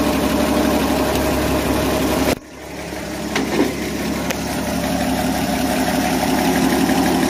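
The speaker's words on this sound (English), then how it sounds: "It's idling pretty damn good." A 1966 Chevrolet C10 truck engine with a new carburetor idles steadily and close by, a continuous low rumble with a brief dip partway through before settling back to an even idle.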